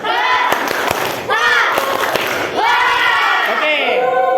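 A group of students in a classroom card game clap their hands together, giving sharp claps mixed with loud, excited shouting and cheering voices.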